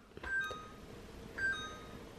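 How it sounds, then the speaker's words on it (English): Two short electronic beeps from a new refrigerator with an ice maker and water filter, spaced about a second apart, moderately quiet in a kitchen with no talking. "I need to figure out how to turn that beeping off though."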